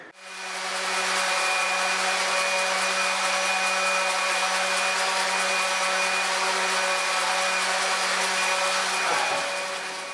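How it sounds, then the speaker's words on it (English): A power sander whirs loudly and steadily while sanding the middle of a wooden stair tread, spinning up at the start and winding down near the end. "I have had to sand away in the middle of the tread to get a nice tight fit"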